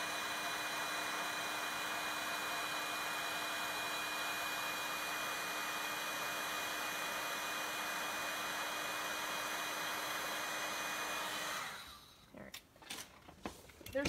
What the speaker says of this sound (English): I'm using a heat gun so I can melt the powder. I want it to get smooth and shiny.